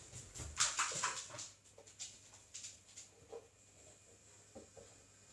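A dog whimpers indoors in a series of short, high, faint whines and yips, spaced irregularly over quiet background hum with no talking.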